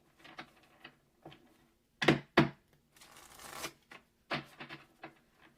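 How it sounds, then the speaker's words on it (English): A deck of cards shuffled by hand, close and fairly quiet, heard as several short riffling and snapping bursts with one longer ruffle in the middle and gaps of silence between. "Let me go ahead and get our cards out, give them a nice shuffle."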